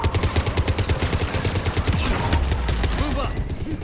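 A mounted machine gun turret rattles in Mass Effect 3 combat, rapid steady bursts of close, loud automatic fire with a heavy low thump underneath, continuing throughout with brief game chatter mixed in.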